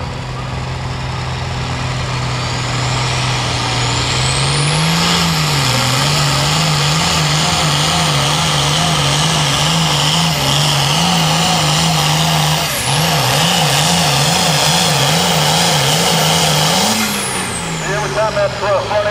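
International Harvester farm tractor with a 414 cubic inch engine roaring loud and close at a tractor pull, holding a steady drone, then revving repeatedly in a wavering pattern, with a turbo-like whine rising and falling above it.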